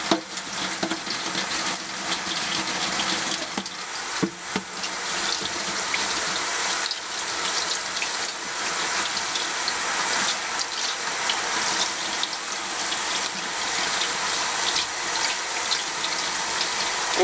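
Tap water runs steadily and loudly while a makeup brush is rinsed under it, a continuous splashing gush with no voices.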